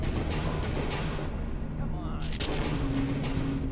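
An enemy explodes in a video game set in the Warrens: a single sharp burst about two-thirds of the way through, rising out of a dense, steady bed of game noise and rumble.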